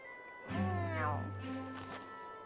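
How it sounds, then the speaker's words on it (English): A cat in the video game Tales of Xillia 2 lets out a single drawn-out meow that rises and falls, fairly close and clear over a low background hum. "You hungry, fat cat?"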